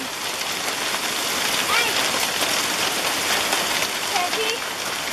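A hail storm with large stones: a dense, steady hiss and patter of hard impacts close by, with children's voices briefly heard over it.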